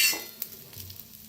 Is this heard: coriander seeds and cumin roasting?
yes